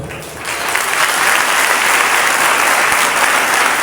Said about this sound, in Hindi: बजाने जोरदार तालियां